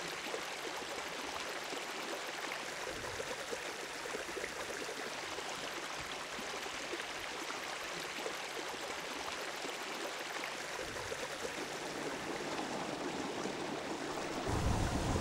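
Shallow water of the Slampe River meandering through the Dunduri meadows in Kemeri National Park rushes and gurgles in a steady, close, full wash that holds without pause, with no voices.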